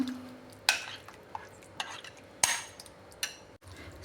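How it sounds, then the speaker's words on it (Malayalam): A spoon stirs sago into adapradhaman payasam in a pot, giving a few sharp scraping clinks at irregular intervals over a low, steady simmering background, close and moderately loud with no talking. "ചവ്വരിയും കൂടെ ഇട്ട ശേഷം നന്നായിട്ടൊന്ന് ഇളക്കി യോജിപ്പിക്കണം"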